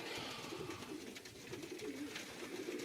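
Jensen racing pigeons in a loft, blue bars and red checkers, coo softly in low, repeated throaty murmurs, faint and continuous under a steady background hiss.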